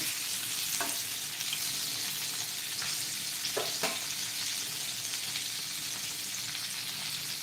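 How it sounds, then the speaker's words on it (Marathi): Bangda (mackerel) fish frying in a pan, a constant crisp sizzle close up, broken by a few brief spatula scrapes and taps, no talk. "तर तुम्ही अशा पद्धतीने बांगडा फ्राय करा"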